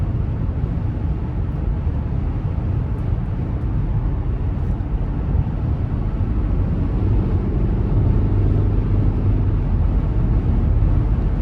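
Steady low rumble of wind and road noise inside the cabin of a 2025 Cadillac XT5 Luxury 2.0T while driving, constant and fairly loud, with no talking.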